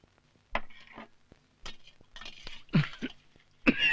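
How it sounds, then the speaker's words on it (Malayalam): A man who smokes beedis coughs in a scene from a Malayalam comedy film: several short, rough bursts spread over a few seconds, close by, with faint clinks of dishes around them. "ഈ ചുമ എപ്പോഴും ഉണ്ടോ?"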